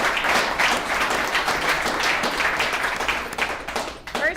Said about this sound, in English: let's give Jeremy another round of applause